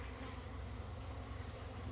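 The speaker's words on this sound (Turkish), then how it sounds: "bugün de balı gördük peteğinde arılar nasıl iş yapıyor" A dense, steady buzz of many honeybees working a honeycomb at the hive, droning continuously close by with a low rumbling hum underneath and no voices.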